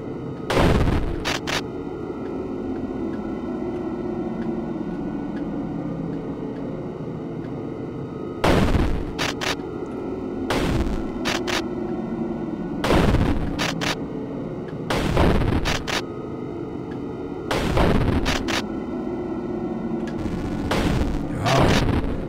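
Heavy gunshots from the video game FAITH: The Unholy Trinity crack out in short clustered bursts, loud booming blasts separated by quieter stretches of low droning background.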